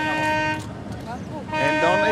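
A horn signals the start of a sailing race with a loud tonal blast, fades, then sounds again, while someone talks in between.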